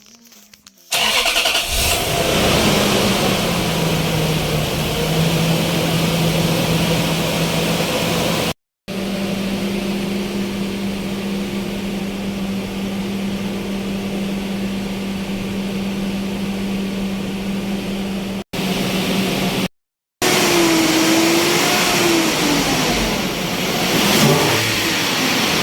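A Toyota 3UZ 4.3-litre V8 swapped into a Hummer H3 cranks and fires, then settles into a smooth, loud idle. After a few short breaks the engine is revved, its pitch rising and falling.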